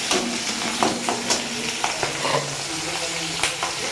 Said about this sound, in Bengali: এই যে ফোড়নে দেব আমি এই যে রসুন কুচি আর লঙ্কা।